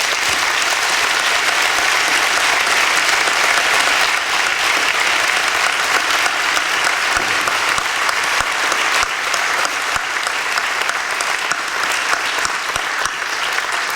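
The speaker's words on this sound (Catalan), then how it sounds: "fer un aplaudiment i que l'arribem fort a Ponsatí" A crowd gives loud, sustained applause for Ponsatí at a local gathering in Argentona, a thick continuous roar of clapping that stays strong and even for the whole stretch.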